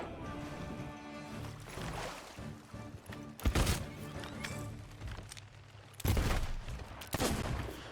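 Several loud blunderbuss blasts in Sea of Thieves aboard a sloop, sharp broadband bursts spaced a couple of seconds apart over busy game ambience with water and ship sounds.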